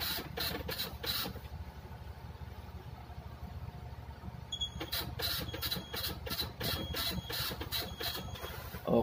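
A printer attached to a marine MF/HF DSC radio runs a loop-test printout with a steady mechanical whir, broken by bursts of rapid rhythmic clattering as the print head sweeps back and forth, close by.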